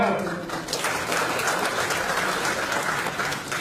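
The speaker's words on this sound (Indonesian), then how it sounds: "tepuk tangan dulu" Attendees at a meeting applaud together, a sustained wash of clapping with a voice heard briefly among it.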